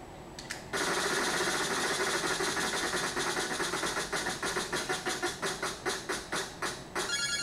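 A prize wheel spins in a word-guessing game: a rapid run of ticking clicks from its pegs that gradually spaces out into slower, distinct ticks as it winds down, with no voices.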